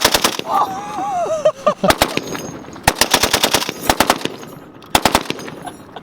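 Close, loud bursts of machine gun fire from a soldier-style weapon switched from safe to fire, coming in rapid repeated volleys with short pauses between, while voices talk and react briefly in the background.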